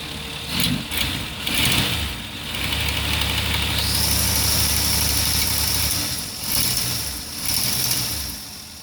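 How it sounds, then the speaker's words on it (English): A car engine that has sat unused for years cranks over with a few sputters, then catches and settles into a steady mechanical idle, followed by some rattling and a couple of revs. "You want to start an engine sitting on the floor."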